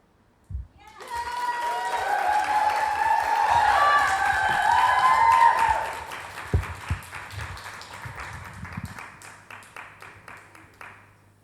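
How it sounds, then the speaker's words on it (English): Audience clapping and cheering after a talk on life after domestic violence, swelling under music at first, then thinning to scattered claps fading toward the end. "One more round of applause, please."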